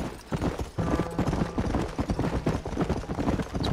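Horse hooves clip-clopping in the Red Dead Redemption video game, a steady rapid rhythm of close, distinct hoof strikes continuing throughout at moderate volume, with no voices.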